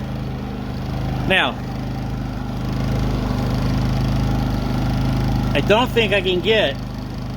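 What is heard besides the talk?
Predator 3500 generator engine running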